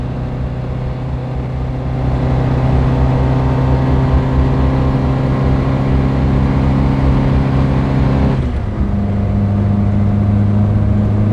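An old car labours up a very big hill, its engine droning steadily and loudly at close range with strong low harmonics, the pitch dropping briefly as it shifts before settling back into a heavy pull; it feels a little flat at full throttle.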